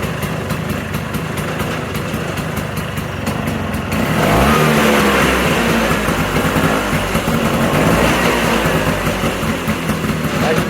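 A rebuilt 1979 Vespa scooter engine with a new cylinder and rings is running, a ticking idle that jumps to a loud, steady close-up buzzing run about four seconds in.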